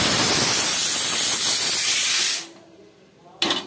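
A pressure cooker cooking biryani lets out a loud, close, continuous steam hiss that stops abruptly, followed by a brief quieter pause and a short renewed burst.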